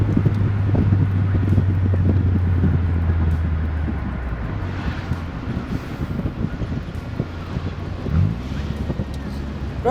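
A BMW Z3 with a 1.9L four-cylinder and Magnaflow exhaust accelerates, its engine note rising and falling under buffeting wind noise, heard from inside the car, with a low hum at the start.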